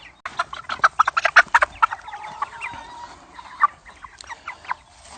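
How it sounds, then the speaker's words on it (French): Chickens cluck and squawk up close in a rapid, busy flurry while being moved into a mobile pen, fluttering and shuffling around, then settle into scattered softer clucks. "je vais terminer le transfert des poulets à mon aise"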